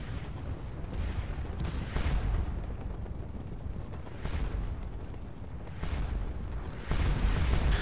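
Artillery in a Napoleonic-era Waterloo battle game booms repeatedly, heavy low rumbling blasts every couple of seconds over a constant roar of battle.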